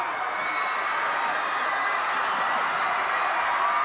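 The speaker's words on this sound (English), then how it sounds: "Let's listen to them celebrate." A dense arena crowd cheers, screams and shouts continuously and loudly in celebration of a state basketball championship win, with no pauses.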